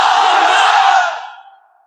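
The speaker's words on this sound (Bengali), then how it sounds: "আপনারা তাকবীর দেন" At a Bangladeshi waz mahfil, a big gathering roars the takbir together in one sustained, loud mass shout that holds for about a second before fading away.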